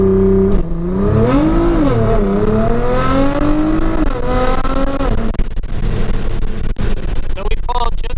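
A modded Nissan GTR launches from a standstill with a loud engine roar that climbs in pitch through gear changes, heard close from inside the car with a voice over it.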